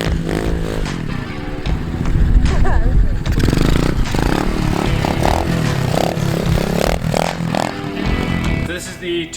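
A 2021 Pitster Pro MXR90 dirt bike with a 90cc four-stroke engine runs loudly nearby, revving and clattering with rough, uneven surges while a person talks over it.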